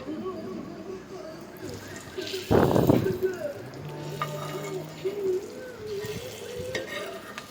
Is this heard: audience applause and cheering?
no